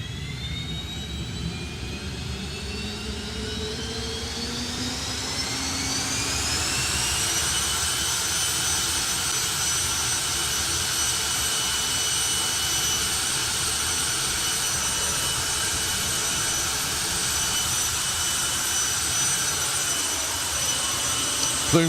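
A jet drag racing car's engine at the Summer Nationals 2025 drag strip spools up with a rising whine, then holds a loud, steady roaring turbine drone for a long stretch, with no voices.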